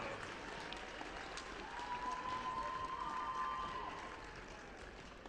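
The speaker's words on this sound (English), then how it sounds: "One more big round of applause for your dance team and cheerleaders" Crowd in a school gym applauding the dance team and cheerleaders at a basketball game, a faint, steady patter of clapping with a brief tone rising above it midway.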